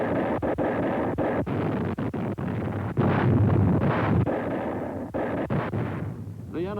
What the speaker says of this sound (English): American gunners were finding their targets with considerable success.